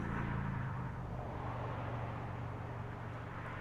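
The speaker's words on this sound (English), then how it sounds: "The sound of a car driving." Car driving sound effect from the visual novel game Under The Bridge: a continuous low engine rumble with steady road noise, even and unbroken throughout, with no voices.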